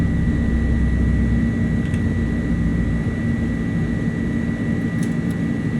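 Airbus A300-600 jet engines at takeoff power during rotation in Microsoft Flight Simulator, a loud, steady roar with a constant high whine, continuous and unbroken without talk.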